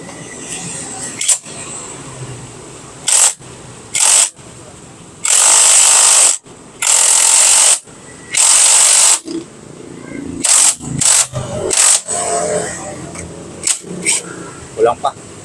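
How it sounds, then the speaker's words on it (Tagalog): An impact wrench drives a puller to press an engine bushing into a Honda ADV150 scooter: a few short rattling bursts, then three longer sustained loud bursts, then more brief hits, with voices between. "Gamit pa rin yung combination natin ng puller tapos na ating impact wrench."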